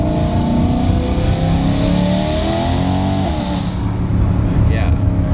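A supercharged BMW E92 M3 with a dual-clutch transmission and Michelin Pilot 4S tires, engine note loud and sustained as it pulls hard, a steady raspy roar held throughout with a brief shift-like change near the end.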